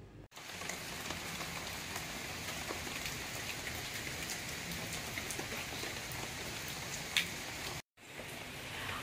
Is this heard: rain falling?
yes